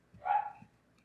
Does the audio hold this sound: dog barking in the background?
yes